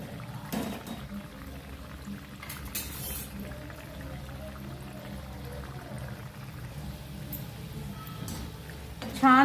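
Rava and potato medu vada deep-frying in hot oil, a soft, steady sizzle and bubbling hiss that runs quietly and evenly throughout with no voices.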